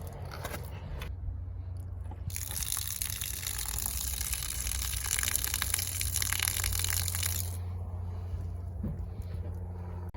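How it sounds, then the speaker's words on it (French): A pump runs to expel water from a valve during winterization, producing a loud steady gushing spray that swells after a couple of seconds and cuts off near the end, over a constant low hum. "Je vais aller mettre la pompe en marche, ça va faire en sorte qu'on va éliminer notre eau"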